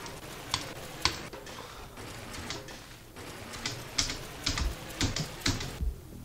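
Quick irregular mouse clicks during video game play, crisp and close, in scattered bursts over a low steady background hum with no talking.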